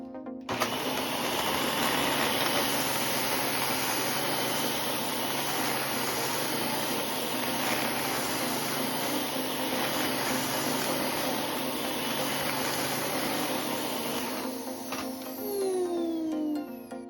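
A Dyson canister vacuum cleaner runs continuously with a loud, steady whooshing drone and a high motor whine, alone and unchanging for the whole stretch.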